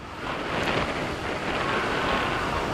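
Steady wind roars across the microphone, a constant broadband rush with no voices, loud and unbroken throughout.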